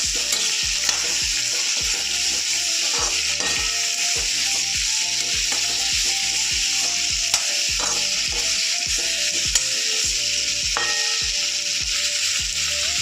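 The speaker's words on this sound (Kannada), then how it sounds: "ಸ್ವಲ್ಪ ಚೆನ್ನಾಗಿ ಫ್ರೈ ಆಗಬೇಕು." Ivy gourd frying in a pan for chutney: a loud, continuous sizzle with regular spatula scrapes and stirs, close and steady, with no voices.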